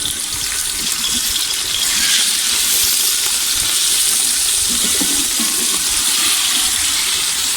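Boneless chicken frying in a pan over low heat for restaurant-style chicken fried rice, giving a continuous loud sizzle with a watery, bubbling hiss and occasional stirring scrapes, with no talking.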